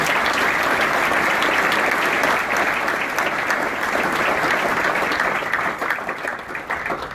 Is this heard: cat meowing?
no